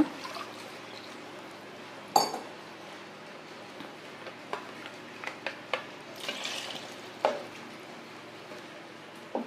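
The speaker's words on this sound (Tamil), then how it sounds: "இதில் வாட்டர் கொஞ்சம் ஆட் பண்ணிக்கோங்க" Water poured into a pot of paruppu sambar, a steady soft trickle running throughout with a few light clinks and knocks scattered over it, close and alone.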